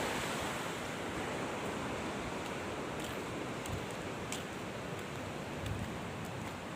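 Water rushes from the spillway of the full Pechiparai Dam in a steady, loud, broad roar that never lets up, with no talk.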